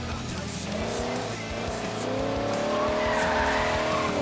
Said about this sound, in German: Oh, schön mit dem kleinen Drift rein